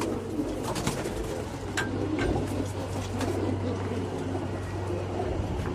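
Pigeons coo softly in a loft at a new house setup, low repeated coos over a steady background hum with a few sharp chirps and taps, fairly faint and without clear talk.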